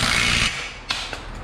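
A ratchet loosening an axle nut on a car with damaged suspension: a close, loud burst of rapid clicking that stops abruptly, followed by a couple of sharp metallic ticks.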